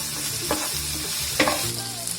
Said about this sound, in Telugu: ఇప్పుడు ఇవన్నీ బాగా కలిపేసుకోవాలి